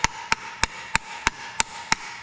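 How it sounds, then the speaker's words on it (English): Seven sharp metallic hammer blows land at a steady, even pace on a seized steel plunger in an aluminum housing, each a bright ringing clack on steel, close up with faint background hiss. "if I grab a hammer and show you, you got a steel plunger"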